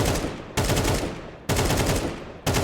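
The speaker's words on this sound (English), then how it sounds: "Don't shoot so many bullets." Rapid automatic gunfire from a competitive first-person shooter on Faceit, three loud sustained bursts, each a dense rattle of shots that cuts off abruptly before the next begins.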